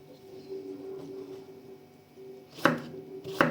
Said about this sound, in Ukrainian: Огірочки, помідорчик. Ось зараз поріжемо.